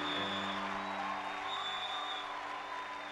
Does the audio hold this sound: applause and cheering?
yes